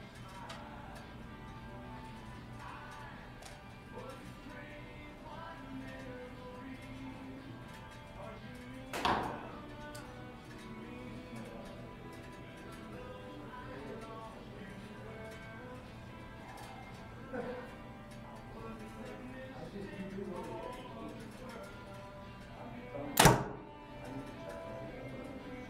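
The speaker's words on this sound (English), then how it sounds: "now let's go ahead and shoot it" A 2021 compound bow is shot twice, each release a sharp, brief snap standing out from a quiet background, with the two shots about fourteen seconds apart.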